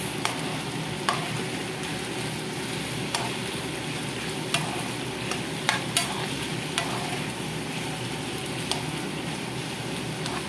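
Chicken stir-fries in a pan with oyster sauce and oyster mushrooms. A steady, close sizzle runs throughout, with scattered sharp clicks of the spatula against the pan and no voices.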